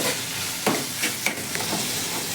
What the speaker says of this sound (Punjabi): ਹੁਣ ਆਪਾਂ ਨਾਲ ਹੀ ਪਾ ਦਵਾਂਗੇ ਜੀ ਪਨੀਰ ਇਹਨੂੰ ਵੀ ਨਾਲ ਹੀ ਭੁੰਨ ਦਵਾਂਗੇ